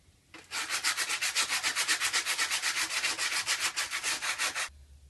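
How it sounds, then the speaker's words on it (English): Rhythmic back-and-forth sanding strokes smooth rough spots of floor leveler inside a motorhome before vinyl flooring goes down, a steady close scratchy rasp of about twenty passes that stops abruptly, with no talking. "I'm going to sand those down so there's no hard spots that will come up through the vinyl flooring"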